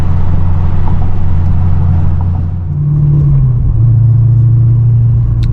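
Car cruising along a seaside esplanade road in Brisbane, a steady loud engine and tyre rumble heard from inside the vehicle, with the engine note shifting slightly midway as it drives on, no talking.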